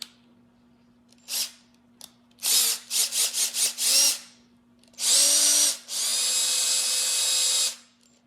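A power drill cranking a Lucy Czech clay extruder full of soap dough whirs in bursts: a few short squeezes, a quick run of pulses, then two long sustained runs, close up, over a faint steady hum.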